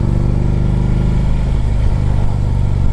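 2010 Harley-Davidson Ultra Limited V-twin engine running close and loud, a deep throbbing rumble with a steady uneven pulse and a slight rise in revs, no voices.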